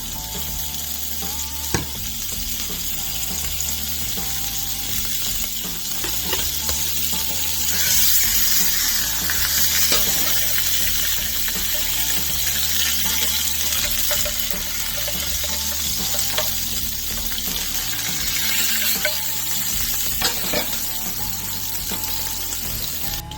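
Two tablespoons of butter melt and sizzle in a pan at the start of a beer cheese sauce, a steady close crackling hiss with occasional clinks, running unbroken and alone.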